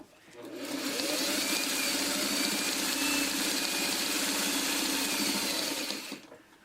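A sewing machine stitches in the ditch along a quilt binding for a string basket, a fast buzzing run that starts, holds steady for about five seconds close by, then stops.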